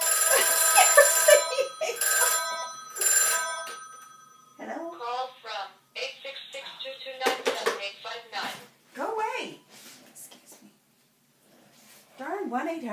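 A loud telephone rings in short bright bursts, three rings close together, followed by someone talking nearby.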